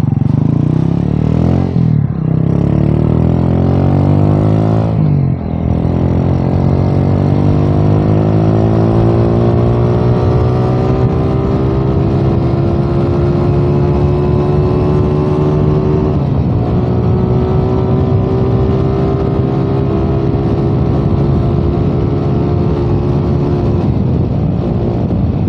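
A stock Rusi 150 motorcycle engine revs up through its gears toward top speed, the buzzing note climbing steadily with short dips at each shift, loud and close with heavy wind rush throughout.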